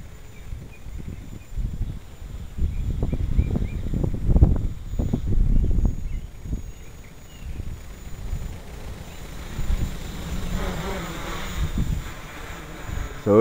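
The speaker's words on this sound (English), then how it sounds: "It's pretty windy, folks." Strong wind of about 15 to 17 mph gusts across an outdoor microphone during a Gaui 330X quadcopter test, a steady low roar that swells into louder buffeting bursts and then eases back to a constant rush.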